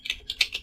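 Quick, light keystrokes clatter on a computer keyboard, about four close taps in an uneven rhythm with nothing else around them.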